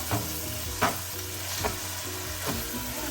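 Onions and tomatoes frying in a pan for Chettinad chicken, with a steady close sizzle and several distinct stirring scrapes at intervals over about three seconds, no talk.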